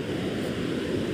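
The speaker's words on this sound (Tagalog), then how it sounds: "Oh, medyo malaki pa rin alon." Large ocean waves at a Philippine shoreline during shore casting, a dense continuous roar of surf with some wind noise, loud and steady throughout the short stretch.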